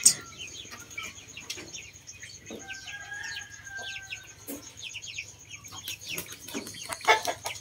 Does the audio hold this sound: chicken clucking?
yes